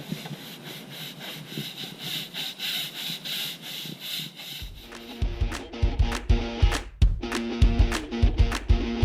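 A stiff brush scrubs rhythmically across a wet, soaped boat deck, with repeated rasping strokes that grow louder and more forceful partway through.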